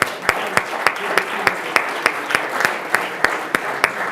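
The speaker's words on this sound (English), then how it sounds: "So again, we applaud you" City council meeting audience in Radford applauding water treatment staff, a dense crowd clapping wash steadily through the whole stretch with sharp single claps standing out at a regular beat above it.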